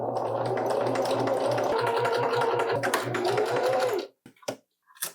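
A sewing machine runs continuously for about four seconds, stitching the short edge of a stretchy mock turtleneck neckband, then stops, leaving a few faint handling clicks.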